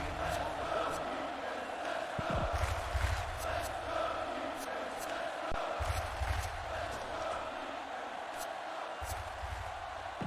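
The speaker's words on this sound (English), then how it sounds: "The fans are cheering on the defense." Crowd of fans cheering the defense in the Madden 2005 football video game, a steady broad roar of noise with a few thumping impacts, heard under a commentator's voice.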